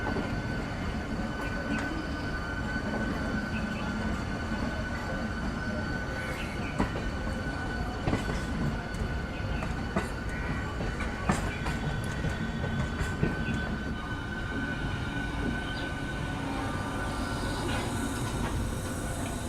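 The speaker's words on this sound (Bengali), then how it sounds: "ট্রেন তো আমাদের একদম নির্দিষ্ট সময় ছেড়ে দিল 6:45 হাওড়া থেকে দীঘার উদ্দেশ্যে তাম্রলিপ্ত এক্সপ্রেস।" Tamralipta Express running from Howrah towards Digha, heard from inside as a steady loud rumble and roar of the moving train with occasional wheel clacks and squeals, continuous throughout.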